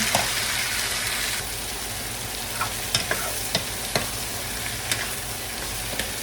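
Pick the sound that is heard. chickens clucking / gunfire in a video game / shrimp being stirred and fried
shrimp being stirred and fried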